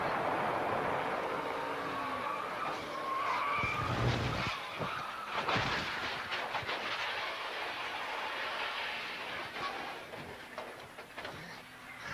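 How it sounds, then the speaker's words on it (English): NASCAR Winston Cup race car crashing upside down into a retaining fence in 1993, heard as a burst of scraping, skidding and metallic impacts mid-clip amid continuous race noise and crowd din. "You can see he's torn some fence up as the car got upside down, got up into the retaining fence here"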